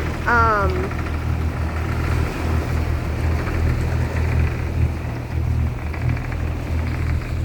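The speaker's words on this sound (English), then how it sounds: "I'm gonna come up here to the front because that engine is loud" A loud boat engine runs steadily close by with a low rumbling drone throughout, briefly overlaid by a high whistling sound near the start.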